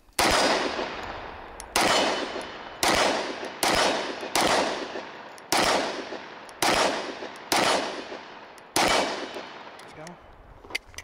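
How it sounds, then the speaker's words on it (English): Nine loud, evenly spaced gunshots from a Kimber Black Ice Rapide 10mm 1911 pistol fired at 22 yards with a Wilson Combat magazine, each a sharp close crack with a short ringing decay, no talking. "Shooting at 22 yards now."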